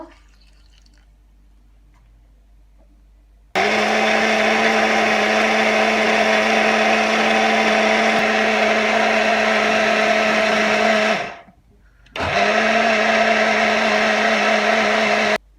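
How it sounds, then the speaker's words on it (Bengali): Electric blender grinding mustard seeds with a little water into paste, a loud steady motor whir starting abruptly after a quiet lead-in, running for several seconds, dipping briefly to a stop, then roaring again before cutting off. "এখন আমি এরকম একটা ব্লেন্ডারে সরিষাটা ব্লেন্ড করে নেবো"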